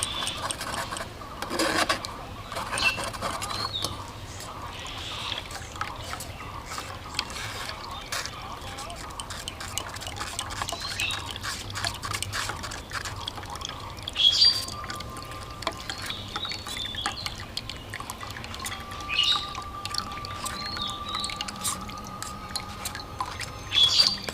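A spoon scrapes and stirs mango pulp in a strainer as juice drips through, giving soft repeated rasping and rubbing under a person talking throughout.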